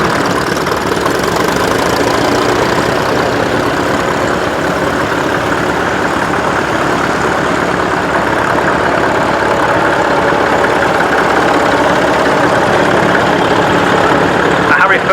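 Massey Ferguson industrial tractor idling at a tractor show, a steady loud engine rumble running continuously throughout, with crowd murmur and voices mixed in around it.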